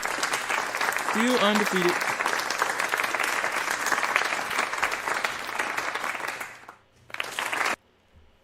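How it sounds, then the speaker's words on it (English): Applause sound effect plays continuously on a chess stream, a steady wash of clapping that runs for most of the clip and briefly cuts out near the end, with someone talking over it. "The applause was on the whole time."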